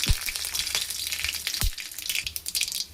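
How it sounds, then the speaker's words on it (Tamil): Mustard seeds spluttering in hot oil in a pan, a dense steady crackling sizzle with sharp pops scattered throughout, close and fairly loud, no voices. "கடுகு நல்லா பொரிஞ்சிருச்சு"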